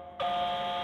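A container alarm siren from a Minecraft nuclear tech mod, a loud electronic tone with strong harmonics that switches on suddenly after a quieter lead-in and holds steady.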